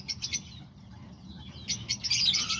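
Pet parakeets, lovebirds and a cockatiel chirping close by, with short high twittering bursts at the start and a livelier cluster near the end, a faint low hum underneath.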